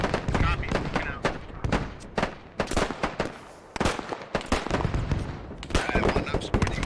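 Gunfire in a military shooter video game: sharp, repeated bursts of rifle and machine-gun fire, some close and loud, others further off, in an uneven rhythm throughout, with voices talking between shots.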